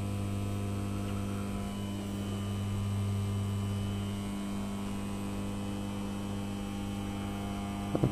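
Steady electrical hum of a resistance welder pushing 950 amps AC through a bar to heat it, a constant buzz with strong harmonic tones holding throughout, close and alone without talk.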